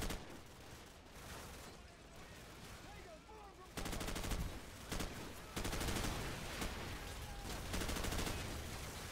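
Gunfire in Call of Duty Modern Warfare (2007), with bursts of rapid machine-gun fire breaking in after a quieter stretch, loud and sustained with short pauses between volleys.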